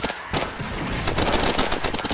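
Rapid machine gun fire in the RimWorld video game, a loud sustained burst of closely spaced shots after a brief gap, continuing to the end with no voices over it.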